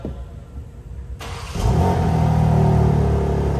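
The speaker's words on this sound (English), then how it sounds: "you'll hear us rev it a couple times so you guys can hear what it sounds like" A Pontiac G8 GXP engine with stock exhaust and valves closed sits at a low idle, then revs sharply and holds a loud, steady roar with a deep exhaust note.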